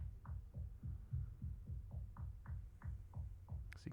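A kick drum in an Ableton drum rack sampler thumps in a steady, quick pulse through a low-pass filter set near resonance, giving each soft, low hit a brief snap; quiet and alone, with a faint click at the end.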